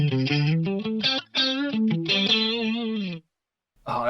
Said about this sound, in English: you'll immediately be able to hear the factory symphonic preset on there